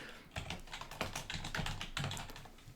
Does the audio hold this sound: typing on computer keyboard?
yes